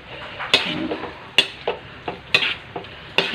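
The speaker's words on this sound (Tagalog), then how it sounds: "Mix lang, ihalo lang natin ng halo para mabalanse yung pagkakaluto ng gulay." Vegetables stirred in a hot pan with a spatula, a few sharp scraping strokes recurring roughly every second over a soft, steady sizzle of frying, close and moderately loud with no voices.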